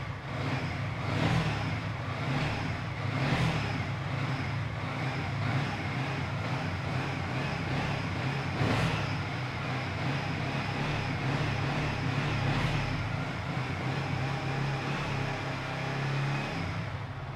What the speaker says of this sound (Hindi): थोड़ा सा रेव करके देखेंगे कि तीन चार पाँच हज़ार आर तक तो लेके जा ही सकते हैं